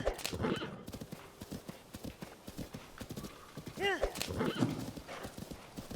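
Horse hooves clip-clop at a gallop in Zelda: Tears of the Kingdom, with a loud whinny partway through, all under steady talk.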